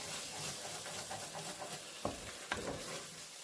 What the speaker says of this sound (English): Give that a go, give that a scrape.